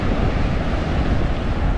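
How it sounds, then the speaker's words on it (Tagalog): Loud, continuous roar of strong surf with heavy wave wash on a rocky Oman shore and some wind buffeting the microphone, close by, no voices. "Ang lakas ng alon"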